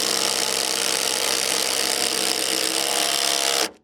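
A Milwaukee brushless cordless drill drives a screw into wood with a loud, steady whirring grind for several seconds, then stops abruptly.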